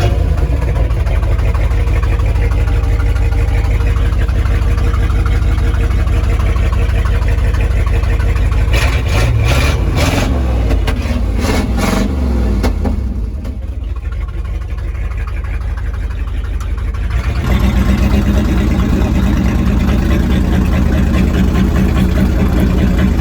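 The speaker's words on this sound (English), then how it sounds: "I actually fixed the carburetor on this thing and it'll actually idle" A Ford Highboy boom truck's engine idling with a replacement carburetor, a loud, steady low rumble running throughout with a brief rough patch partway through, then settling back to an even idle.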